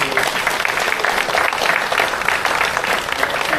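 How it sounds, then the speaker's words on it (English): Applause for volunteer award winners at a CCFD CERT volunteer appreciation event, a full, steady roar of many people clapping at once, loud and even from start to finish. "So together, let's give them a round of applause."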